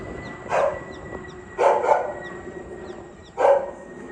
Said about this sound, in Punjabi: ਆਉਂਦਿਆਂ ਨੂੰ ਆਵਾਜ਼ ਆਉਂਦੀ ਡੌਗ ਦੀ